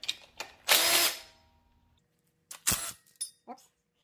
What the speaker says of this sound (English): use the power tool to zip them off